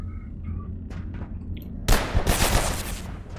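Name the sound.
gunfire from a gun in the video game Abiotic Factor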